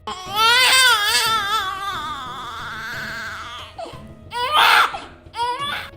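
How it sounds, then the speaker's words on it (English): A baby wails in rising, wavering cries, then breaks into shorter sobbing bursts with brief pauses, close and loud. "it can mimic a baby crying"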